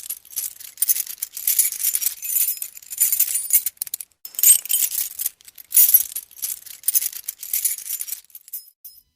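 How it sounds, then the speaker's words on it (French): Bright metallic jingling and clinking of a very large bunch of keys shaken in bursts, close and fairly loud, with brief pauses between shakes. "c'est le son d'un trousseau de clés très gros"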